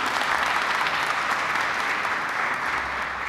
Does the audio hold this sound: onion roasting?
no